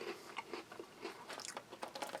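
Close, quiet crunching and chewing of a crunchy, sweet snack with patriotic shapes from a halal US Army MRE, a steady run of small crisp bites and mastication with no talking.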